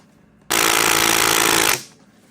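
An impact wrench fires in one loud, continuous hammering burst of about a second on a Kawasaki KLX110L motorcycle engine, then winds down and stops.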